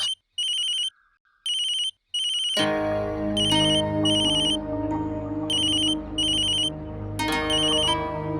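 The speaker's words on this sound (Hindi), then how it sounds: "किसका फोन आ गया?" A phone ringtone chirps in repeated short bursts, first alone and then continuing over a swelling background music bed.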